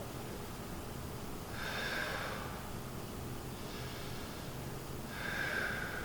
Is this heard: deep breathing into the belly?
yes